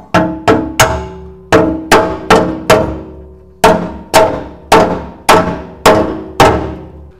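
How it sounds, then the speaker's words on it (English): Metal being hammered on a 1957 VW Oval Beetle during wiring work, about a dozen loud, sharp ringing blows in uneven groups, close and alone with no talk. "I'm definitely gonna have to hammer this back in a little."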